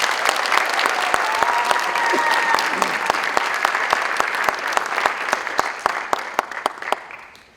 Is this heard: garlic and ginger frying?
no